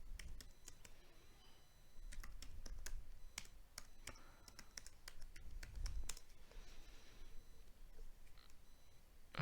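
Credentials are typed on a computer keyboard: a quiet, close, irregular run of light key clicks with short pauses, alone without talk.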